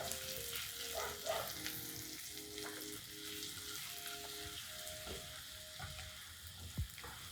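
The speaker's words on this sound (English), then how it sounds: "Then I'm going to cook my onions and garlic until soft." Onion and garlic fry in butter in a pan, giving a steady soft sizzle with a few stirring scrapes and light clinks, moderately close and alone without voices.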